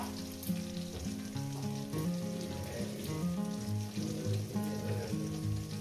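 Katla fish curry masala sizzles steadily in a pan as it is sautéed, a continuous close frying hiss with occasional stirring, while tonal background music plays throughout.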